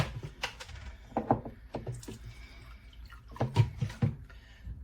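Half a cup of drained beet juice poured into a small saucepan, a faint, uneven liquid trickle broken by light knocks and clinks of kitchenware, with no talking.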